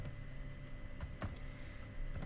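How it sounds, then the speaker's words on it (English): Keys clatter on a computer keyboard while entering text in a macro program, a few quick clustered clicks over a steady low room hum, close and fairly quiet, with no voice. "I am typing type your name"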